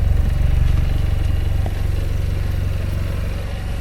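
A 2021 Vanderhall Venice GT idling in park, its engine putting out a steady, close, low throbbing pulse with a slight dip partway through and no talking over it.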